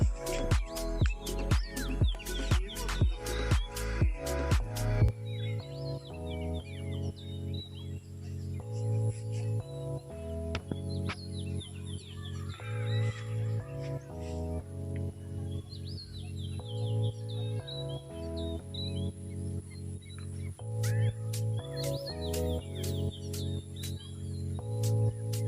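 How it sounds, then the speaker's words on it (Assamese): Birds sing outdoors beside a large pond, bright chirps scattered over a melodic musical backing with a steady repeating rhythm throughout. "শুনিবচোন ইমান ধুনীয়াকে চৰাইবিলাকে মাতি আছে"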